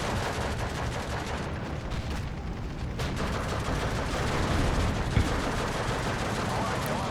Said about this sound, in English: Tetrarch taking grenade bundle fire from my Ronas.